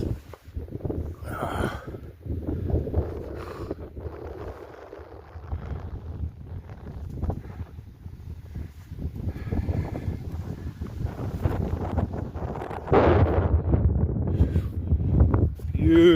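Gusty wind buffets the microphone on an exposed mountaintop along the Appalachian Trail, rising and falling in uneven surges, with people talking over the blustery rush.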